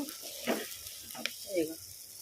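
Tomatoes fry in oil in a pan for a Sunday mutton curry, giving a soft sizzle with a few brief crackling bursts and stirring sounds at low volume.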